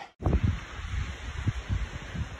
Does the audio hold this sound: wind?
yes